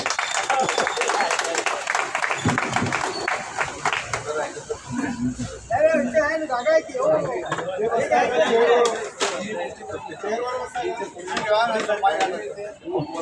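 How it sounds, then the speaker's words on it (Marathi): Applause and clapping from a seated crowd of senior citizens at a birthday celebration, welcoming an arriving guest, with chatter mixed in across the whole stretch at a steady, fairly loud level. "देशपांडेंसाठी जोरात टाळ्या होऊन दे"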